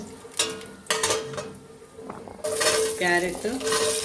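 Spices, cashews and vegetables such as carrot and onion frying in a pan for veg biryani, with a steady broadband sizzle, stirring scrapes and a few sharp clinks of utensil against pan, the sizzle growing louder toward the end.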